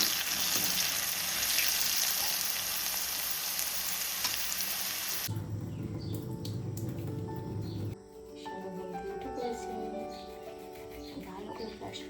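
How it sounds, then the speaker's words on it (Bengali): A pan of soybean kosha cooks with a steady, close sizzling hiss for several seconds before it cuts away to quieter household sounds with a voice speaking. "রান্না করবো সয়াবিন কষা"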